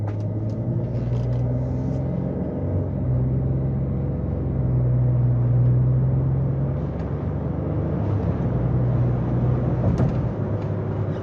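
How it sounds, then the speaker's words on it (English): Interior of a 2017 Lincoln Navigator L Reserve on a test drive: a steady low engine and road rumble with a sustained drone, occasional faint clicks and creaks, no talk. "we're gonna go on a quick test drive"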